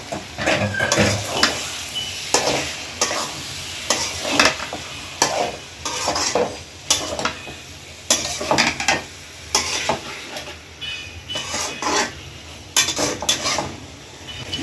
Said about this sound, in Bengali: এখন দিয়ে দেই মাংসগুলো ভালো করে কষাই নেব